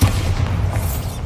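A Bombarda explosion spell in Hogwarts Legacy, a single loud deep boom that rumbles steadily through the short moment, heavy low end and close.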